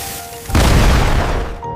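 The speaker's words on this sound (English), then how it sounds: "61 million pounds of dynamite were used to blast through solid rock" Dynamite blast through solid rock during canal construction: a single sudden loud boom that hits hard and rolls on as a dense rumbling roar for about a second before cutting off, close and powerful, with no voices.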